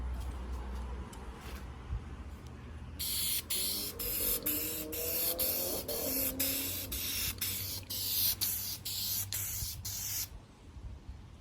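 A can of Dupli-Color vinyl and fabric paint sprays steadily onto a race seat, laying on a light coat in one continuous hiss of about seven seconds, broken by brief pauses, over faint room noise.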